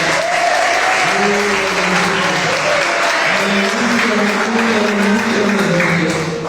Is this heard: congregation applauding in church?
yes